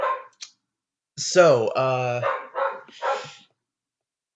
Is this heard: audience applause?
no